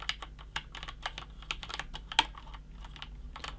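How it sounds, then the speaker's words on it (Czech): Brisk typing on a 1STPLAYER MK7 mechanical keyboard with Cherry red switches, a steady patter of soft key clicks with a few louder strikes, close and alone with no voices. "ale v reále na mechanickou klávesnici to není absolutně hlučný"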